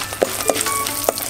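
Chana dal and peanuts fry in hot oil with dried red chillies, a brief close sizzle punctuated by a few sharp crackling pops.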